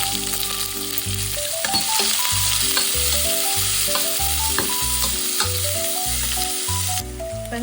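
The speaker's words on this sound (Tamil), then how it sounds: "வெங்காயம் வதங்கி கொண்டிருக்கு." Onions with a little salt sautéing in a pan for a prawn and drumstick curry, a steady close sizzle and fry with stirring scrapes, continuous throughout and no talk.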